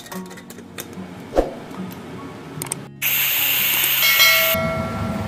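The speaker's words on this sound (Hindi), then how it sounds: "कुकर की 1 सीटी आ गई है" Pressure cooker whistle while chillies cook on the stove, a loud, sustained hiss of steam that bursts in partway through after quieter kitchen clatter and lasts to the end.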